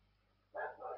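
Dogs bark twice in quick succession, fairly close and loud, breaking in after half a second of quiet room tone.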